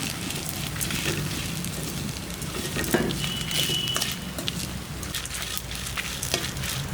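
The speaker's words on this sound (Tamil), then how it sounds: "தேங்காய் துருவலை போட்டு ஒரு நிமிஷம் நல்லா கலந்து விட்டுட்டு" Grated coconut is stirred in a frying pan with sautéed chillies for a drumstick-leaf (murungai keerai) thuvaiyal, giving a continuous close sizzle with scraping and rustling from the stirring, no talk.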